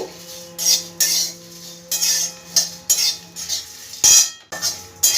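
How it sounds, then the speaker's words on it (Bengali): Cumin seeds and whole black peppercorns dry-roast in a pan, a spoon scraping and rattling them against the metal in separate strokes with a faint steady hum behind, close and dry. "সবগুলো খুব ভালো করে আমি শুকনো খোলাতে ভেজে নেব"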